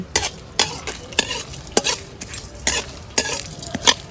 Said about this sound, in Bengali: লবঙ্গ দারচিনি সব আমি ফোড়ন দিয়ে দিচ্ছি কাজুটা আমি দিয়ে দিচ্ছি